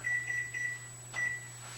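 A kitchen timer being set while baking muffins gives a few short, thin electronic beeps in quick succession, then another after a pause, faint over a steady appliance hum.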